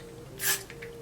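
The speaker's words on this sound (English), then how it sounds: "do a little bit more spray." Hairspray hisses onto a thin lace wig in one short, close burst lasting about a quarter second, standing out over a quiet, steady background hum.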